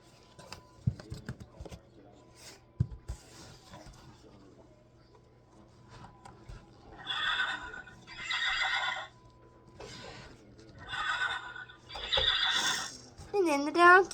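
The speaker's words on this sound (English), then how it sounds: "And then the horse." A horse whinny plays from an animal sound book, several bursts with a descending squeal at the end, over page handling and light background noise.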